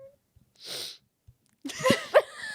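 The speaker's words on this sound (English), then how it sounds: "Try not to sniff in the microphone" Sniffing through a stuffy nose close to a microphone, with a short nasal inhale followed by a pause and then a longer, congested snort mixed with brief vocal sounds.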